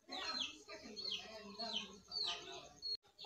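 Hens and small chicks cluck and peep while pecking at scattered grain on a farm, several short calls repeating close by over a steady background of other birds.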